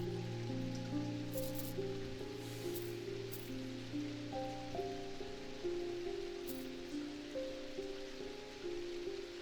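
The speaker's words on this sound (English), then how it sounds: "It's raining outside in real life right now. Quite a lot." Heavy rain falls outside, a soft continuous hiss heard faintly under steady tonal music, with no voices.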